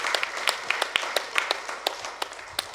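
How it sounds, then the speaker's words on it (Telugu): Audience applause at a health and wellness workshop, a spirited burst of clapping with sharp individual claps standing out over the dense patter, moderately near and continuing throughout. "సంగీత బాబుకు ఒకసారి గట్టిగా చప్పట్లు."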